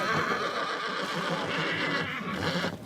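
Horses whinny and neigh amid a dense, noisy outdoor din, the calls overlapping continuously with no clear pauses.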